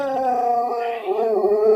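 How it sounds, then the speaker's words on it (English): A dog in heat howls close by in a long, sustained, wavering tone that bends downward midway and then rises again, with no talk over it. "that's my dog back there"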